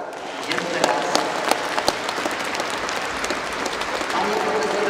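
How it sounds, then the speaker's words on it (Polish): Sustained applause from a concert audience at a New Year's concert in a church, honoring the orchestra and its conductor; dense, steady clapping filling the space with a few sharper claps standing out. "Maestro, gromkie brawa. Jeszcze raz."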